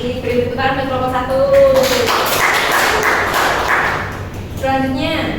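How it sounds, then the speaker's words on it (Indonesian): A classroom audience applauds a student group during a micro-teaching lesson: a burst of dense clapping swells between stretches of a teacher's talk, then fades as talking resumes. "Beri tepuk tangan untuk kelompok"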